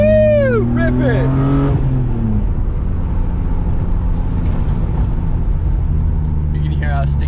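A BMW E36 M3 drives on sticky tires that pick up rocks, its engine tone climbing and then settling into a loud, steady road roar with a scattered crackle of grit. Voices come in near the start.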